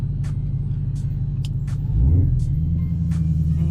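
A Dodge Hellcat launching at full throttle: a steady deep engine rumble swells louder around the midpoint and holds, with faint ticking clicks above, heard from inside or close to the car.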